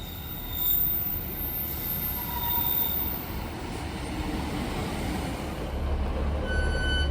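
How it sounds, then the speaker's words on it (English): Class 153 diesel train passing through a railway station in York, a steady loud rumble of wheels and engine with faint squeals, sustained throughout without talk. "Well, that was unplanned, actually seeing a Class 153 come through here."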